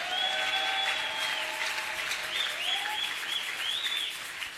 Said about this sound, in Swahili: walete makofi kwa Yesu